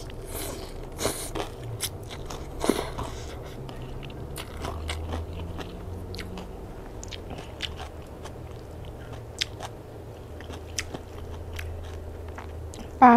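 Someone bites and chews a Thai khanom jeen rice noodle salad with crispy glass fish and herbs in pla ra fish sauce, giving close, intermittent crunches and moist chewing at a low, steady level with no talk.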